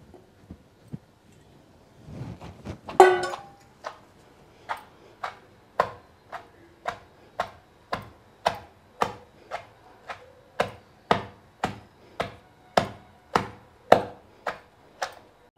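Raw mango pieces pounded for a crushed mango pickle chutney: a steady run of roughly twenty sharp, close thuds at an even rhythm, after a brief cluster of scraping knocks at the start.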